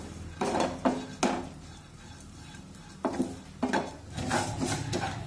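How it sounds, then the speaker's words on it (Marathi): Rice roasting in ghee in a pan is stirred with a spatula for kheer, giving scattered scraping and clattering strokes in two bursts over a soft sizzle, close and fairly loud, with no talk. "तर आता एकसारखं हे तांदूळ असे उलटण्याने हलवून घेऊ आणि छान तांबूस रंगावर भाजून घेऊया।"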